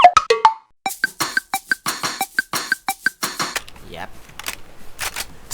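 Rapid gunfire in the video game Infestation: about a dozen sharp, evenly spaced cracking shots in quick succession, followed by a short pause and then a few more scattered shots.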